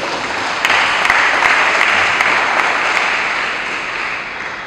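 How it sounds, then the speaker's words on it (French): A congregation at a church memorial gathering applauds for several seconds, a moderately loud, dense patter of many hands with a few sharper claps standing out, easing off toward the end. "Si nous pouvons l'applaudir, très sincèrement."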